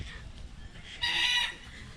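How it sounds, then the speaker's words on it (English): Regent parrots call in the parrot and cockatoo section of Featherdale Wildlife Park near Sydney, a loud harsh squawk lasting about half a second that rises over a steady background murmur of other birds. "We've got regent parrots, which are making their presence known."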